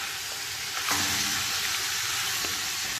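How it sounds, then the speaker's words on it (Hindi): Bone-in meat fries in hot oil over high heat for a Bombay-style khichda, giving a loud, continuous sizzle close by, with a brief stir or scrape near the start and no talking. "थोड़ा सा भून लेना है तेज़ आँच पर।"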